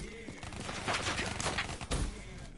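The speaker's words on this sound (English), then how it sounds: "I can shoot him in time." Gunfire in a PS4 shooter video game, a dense, loud burst of rapid shots that rolls on for a couple of seconds with game noise around it.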